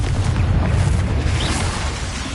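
A Confringo spell blast in Hogwarts Legacy, a loud, sustained booming roar with heavy low rumble that fills the whole moment, no talk over it.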